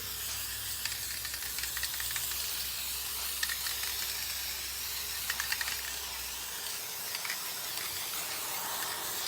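A spray paint can hisses onto glass in a steady, sustained spray, heard close with faint rattly ticks throughout and a low background hum that drops out partway, with no talking.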